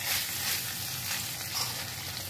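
Fried eggplant goes into a hot pan of oil and sizzles steadily, a continuous, fairly loud hissing crackle heard up close with no voices.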